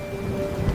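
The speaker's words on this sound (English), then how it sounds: "Seriously? A storm? Thunder too?" Thunder rumbles through a sudden storm with rain, a steady low roll under a faint tonal hum, swelling slightly near the end with no talking.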